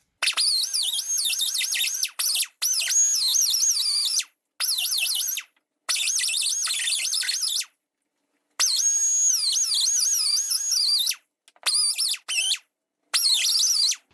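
High-pitched whining sanding tool working rust in the rear window channel of a Mercedes W126, running in repeated bursts of a few seconds with short pauses, the pitch wavering as it bites into the metal.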